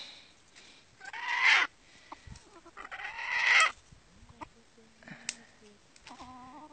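Two loud, raspy bursts of junglefowl clucking stand out against a quiet background, followed by a few softer scattered clucks and calls.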